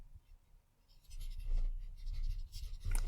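A pen or chalk scratches out handwriting during a math lecture, a few short strokes and taps, close and fairly quiet, with no talking.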